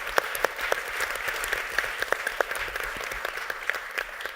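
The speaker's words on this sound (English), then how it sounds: "A round of applause for them," Audience applause at an engineering education conference session fills the clip, with steady dense clapping and a few sharper individual claps rising above it, fairly loud throughout with no talking.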